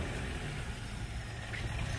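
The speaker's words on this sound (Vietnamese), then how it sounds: "qua đây nghe tiếng máy nè" A 2010 Ford Focus engine idles steadily at close range, a continuous low rumble with a faint whine riding above it, alone with no voices.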